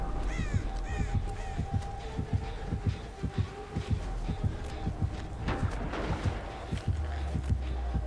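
Crows caw in Resident Evil 4, several harsh calls rising above a quiet, rhythmic low thumping like a pulse that runs steadily throughout.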